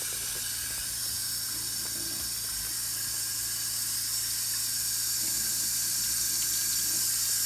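Water runs steadily from the tap of a shallow sand point well, a constant close hissing flow with a faint mechanical rattle underneath, unbroken from start to finish.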